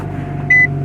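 A Nissan GT-R R35 engine, around 100,000 miles, idles steadily after starting with a low, even hum, joined briefly by a short electronic chime partway through.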